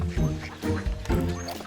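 Cartoon ducks quack in an animated children's learning show, a few short nasal quacks in quick succession, close and clear over a soft musical background.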